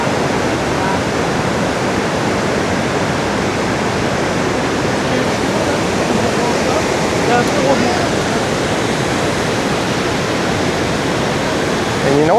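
Montmorency Falls in Quebec City pours as a continuous loud roar of falling water, broad and steady with no breaks, heard from nearby for about twelve seconds.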